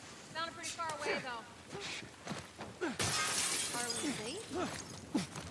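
Glass bottle shattering in The Last of Us Part I, a bright burst of breaking glass midway through, heard under someone talking over the game's ambience.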